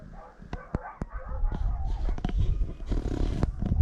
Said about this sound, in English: Yeah, the dogs are noisy.